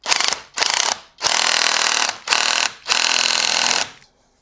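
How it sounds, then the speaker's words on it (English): A 19 mm nut on a coilover for a BMW E91 is driven down in several loud, harsh mechanical bursts of rapid rattling, separated by brief pauses, with no talking. "for 19 millimeter, just take your nut down and just slam it in"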